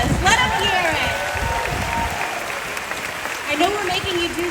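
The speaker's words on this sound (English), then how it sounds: "Let's give them another round of applause. Let them hear it." A crowd at Disney's Hollywood Studios claps for cast members during a 35th anniversary celebration, a steady round of applause with cheering and voices mixed in and a bright tonal layer above.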